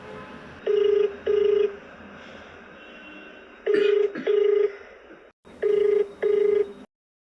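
A telephone ringing for a TV show call in three paired bursts of a steady electronic double ring, loud and close, separated by quieter gaps with faint background hum.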